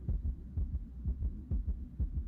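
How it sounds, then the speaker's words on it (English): A heartbeat sound effect plays as a steady, deep, muffled lub-dub pulse, repeating about every half second. It is close and throbbing, with no talking. "It's a heartbeat."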